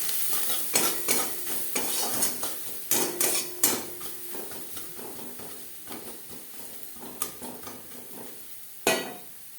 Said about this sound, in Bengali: নারকেল ভাজা হয়ে গেছে।